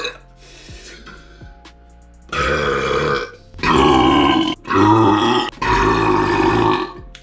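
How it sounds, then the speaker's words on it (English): A person's burping contest attempt: a faint intake of air, then several long, loud, forceful belches in quick succession, rough and resonant, recorded close with no speech. "If you listen back on that last burp, you could hear me sucking that air in and then regurgitating it."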